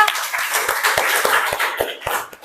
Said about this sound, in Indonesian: Kita kasih aplaus dulu ya.